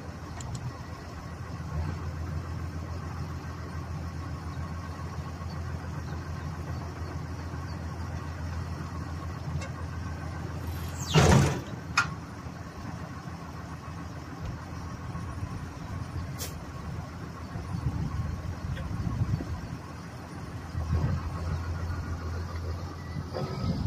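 A mowing vehicle's engine runs at a quiet, steady idle-like drone while driving on. A single sharp crack or clatter breaks in near the middle, and the engine swells slightly toward the end.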